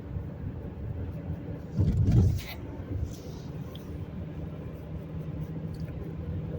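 A car drives along a normal commute to work, with a steady low road and engine drone throughout and a brief louder swell of passing traffic partway through.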